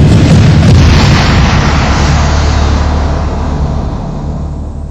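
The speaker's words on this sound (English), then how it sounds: "No one knows what triggered the explosion." A house gas explosion erupts as a huge, sustained roaring boom that fills the space and slowly rumbles away over several seconds, with no voices.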